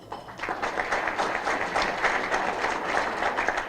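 An audience at a legislative forum with state representatives and senators gives a steady round of applause, dense clapping that swells quickly and holds at an even level throughout.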